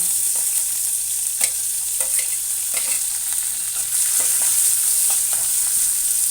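Onions and sweet corn frying in a pan, a steady bright sizzle with repeated sharp clicks and scrapes of stirring at irregular intervals, close and fairly loud with no voices.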